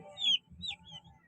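Newly hatched chicks, two days old after hatching from market-bought eggs, give a few high, thin chirps over low rustling and faint background sounds.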